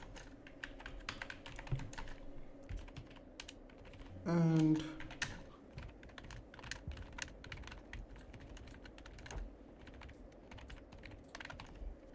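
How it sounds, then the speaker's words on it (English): Quick, irregular key clicks from typing on a computer keyboard run throughout at close range, with a brief louder burst partway and a single spoken word. "I'm typing to make the main colors"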